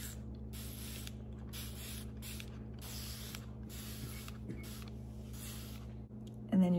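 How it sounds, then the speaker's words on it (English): A continuous-spray water bottle hisses in repeated bursts onto paint, some short and some longer, over a steady low hum, fairly quiet and close. "Take your continuous spray water bottle and spray it."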